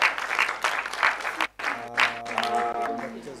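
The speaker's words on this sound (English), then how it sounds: "Please a round of applause for her" An audience at a live event in Jigawa applauds as a women's affairs director is invited on stage, with loud dense clapping that dips briefly before resuming under a sustained tonal hum.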